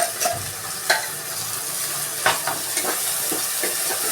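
Ground spice paste frying in a pan for tomato bath, a steady close sizzle with occasional stirring clicks and scrapes, no talking.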